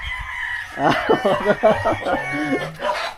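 Gamecock roosters sparring make a burst of harsh, raspy crowing and clucking calls, close and loud, followed by a short sustained low note, with a voice faintly underneath.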